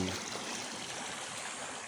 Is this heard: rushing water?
yes